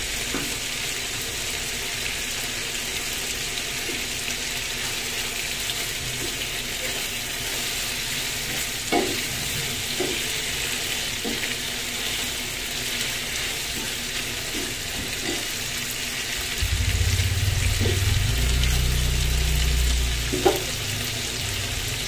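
Chicken afritada sizzles softly in a pan with faint clicks of stirring, then water is poured in near the end, bringing a louder rushing splash over the frying.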